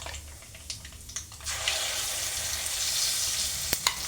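Blended tamarind paste with asafoetida frying in hot oil for an amla pickle, a broad steady sizzle that swells after a quiet start, with a few sharp spatters and clicks near the end.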